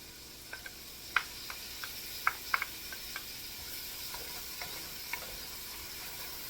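Chopped celery and sweet onions cooking in a pot for clam chowder, giving a soft steady sizzle with scattered faint pops and crackles, close but quiet, no voices.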